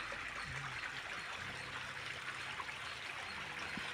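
Irrigation water from a pump flowing through a farm field gives a steady, faint rushing trickle that continues evenly throughout, heard from close by with no voices.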